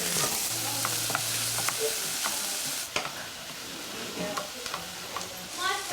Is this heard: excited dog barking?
no